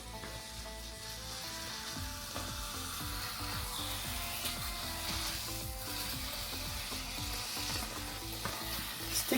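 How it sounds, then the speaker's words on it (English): Four chicken smashburger patties fry in a pan with a dense, continuous sizzle. A spatula scrapes and clatters repeatedly close up, and the sound is fairly quiet overall and goes on without pause. "We're going to put the first batch of legit burgers in. We're going to try 4 of them in the pan."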